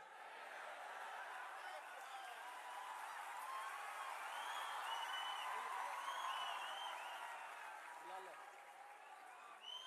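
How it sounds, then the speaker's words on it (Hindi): Sustained audience applause fills a large auditorium during an annual celebration gathering of about 15,000 people, a dense steady wash of clapping with scattered cheers and whoops throughout. "जोरदार तालियां बजती रहनी चाहिए"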